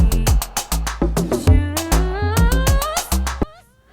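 Synthesized mVoice vocal sings the word "shoes" over a busy electronic backing of sharp beats and a rising tonal line, loud and up close, fading out at the end.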